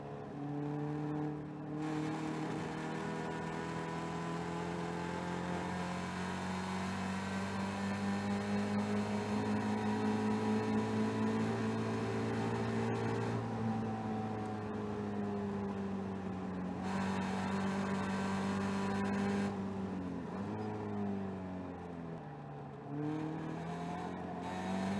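Caterham race car engines howl steadily at Oulton Park as Chris chases Peter, a loud, sustained whine that rises and falls with gear changes and throttle lifts near the end.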